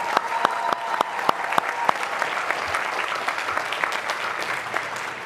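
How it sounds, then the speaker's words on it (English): Commencement audience at a university graduation ceremony giving a round of applause, sustained dense clapping from a large crowd with sharp individual claps standing out near the front. "Let's give them a round of applause"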